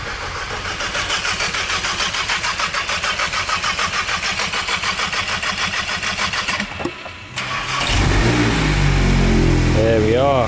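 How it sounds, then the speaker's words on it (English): A tuned VW Golf R MK8 with a hybrid turbo cranks over steadily with a rhythmic starter whir for several seconds, then catches and fires into a loud, deep idle close by. A voice speaks near the end. "we're going to crank the car over before starting it fully"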